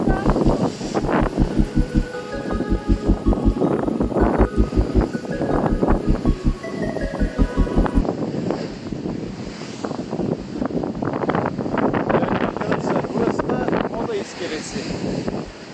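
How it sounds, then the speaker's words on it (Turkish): Steady wind buffets the microphone with a low roar throughout in light rain, while voices talk over it outdoors in Istanbul. "Hafif yağan yağmur altında rüzgar da var tabii."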